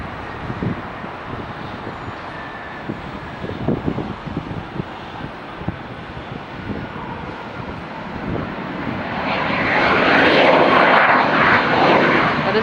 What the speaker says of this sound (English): That is a loud private jet.